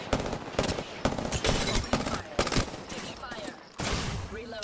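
Rapid bursts of automatic gunfire in a shooter battle game, sharp repeated cracks in uneven volleys with brief gaps, close and loud, with faint voice chatter mixed underneath.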